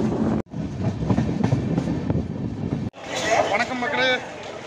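A train rumbles through Tirunelveli Junction railway station with steady rolling noise and rail clatter, close and continuous. Someone speaks over the train and keeps talking as it fades.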